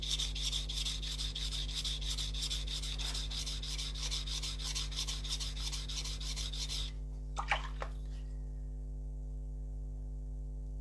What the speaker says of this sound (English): so I'm gonna grind at the edge around here.